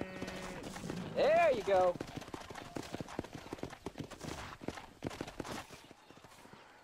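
Horse hooves clip-clopping in the video game Red Dead Redemption, a brisk, close, regular patter of hoofbeats running through the whole stretch, with a short spoken line and a horse's whinny-like call near the start.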